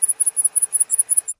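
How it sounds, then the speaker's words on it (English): A grasshopper chirps close by in a quick, even rhythm of about eight sharp, high buzzing bursts, with nothing else heard. "Grasshopper,"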